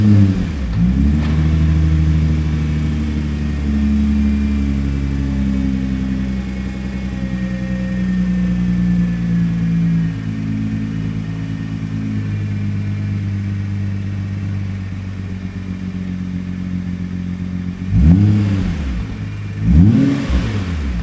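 A 2022 Nissan GT-R Nismo's engine fires up with a sharp revving burst, then settles into a steady, loud, deep idle, followed near the end by two quick throttle blips that swell and fall.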